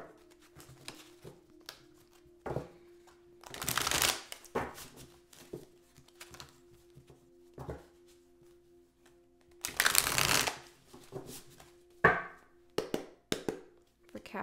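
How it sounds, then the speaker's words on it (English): A tarot deck is shuffled by hand in several bursts of crisp riffling and card slapping, broken by soft taps and quiet handling between shuffles, close and fairly loud. "We'll get three shuffles."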